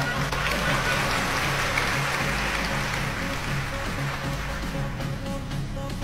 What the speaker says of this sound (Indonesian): Ceramah di masjid kok ditepui.